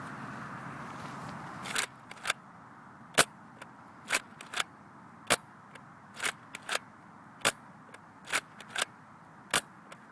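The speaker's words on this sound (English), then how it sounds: "I'm going to be pulling down hard on the trigger so it fires both shots at the same time." Nerf N-Strike Elite Rough Cut 2x4 blaster firing darts with the trigger pulled hard for paired shots, giving about a dozen sharp, snappy pops spaced unevenly across the clip over a faint background hiss.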